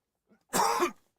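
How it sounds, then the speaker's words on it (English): A single, sharp, close cough bursts out alone against silence, preceded by a faint short breath. "Delayed cough there from that one."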